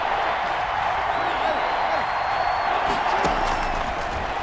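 Steady stadium crowd roar from an American football video game, a dense continuous wash of cheering at a constant level during a tense third-and-two moment, with no clear individual voices rising above it.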